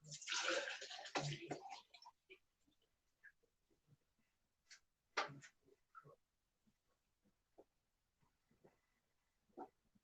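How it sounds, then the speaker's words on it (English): Turner's iced tea poured from a container, a loud splashing gush in the opening two seconds, then a short second splash, followed by scattered faint clinks and small knocks. "Let me pour some Turner's iced tea."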